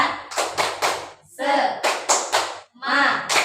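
A class of students claps in quick rhythmic bursts, several short rounds of clapping separated by brief pauses, close and loud, with voices mixed in.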